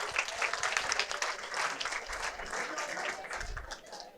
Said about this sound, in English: Let's give a round of applause to Gitanjali.